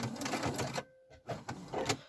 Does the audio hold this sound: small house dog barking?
no